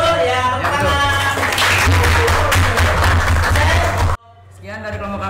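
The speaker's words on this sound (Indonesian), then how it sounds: "Tepuk tangan." Classroom applause at the close of a student group presentation, a dense burst of many hands clapping for about four seconds before cutting off abruptly, followed by a voice speaking.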